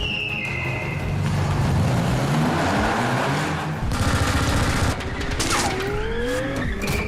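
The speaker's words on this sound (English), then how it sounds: "he's being shot at by a machine gun and shot at by these grenade launchers, and so columns are blowing up around the car" Film action scene in which a car is shot at by a machine gun and grenade launchers while columns blow up around it: loud tire skids, rapid bursts of gunfire and crashing impacts overlap in a chaotic, close mix.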